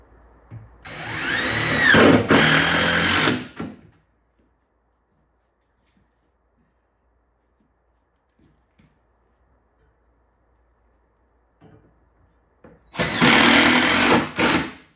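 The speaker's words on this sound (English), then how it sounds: "I'm just going to run the screw right into the wood" Two short bursts of a power driver buzzing as a screw is driven straight into wood without a pilot hole, one at the start and one at the end, separated by a long near-silent pause.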